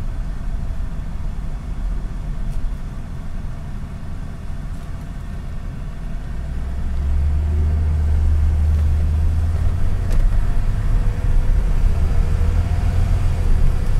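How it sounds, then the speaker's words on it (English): 1981 Chevy Corvette drives along a dirty road, its engine rumbling low and steady, then swelling louder partway through as it picks up, with faint rattles and knocks on top. "You're gonna hear the T-tops rattle, that's common."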